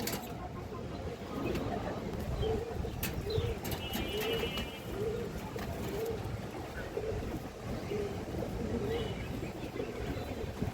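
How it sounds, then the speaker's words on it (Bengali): Rampuri pigeons with three-band red markings coo steadily and repeat low calls over a dense, constant background hiss, with faint clicks and a voice now and then. "এই যে দেখেন তিন পট্টি লাল গিয়ারের কবুতর মাশাআল্লাহ।"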